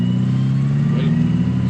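A Datsun 120Y fitted with a new exhaust revs close by, a steady loud low-pitched engine drone with a brief rising swell midway.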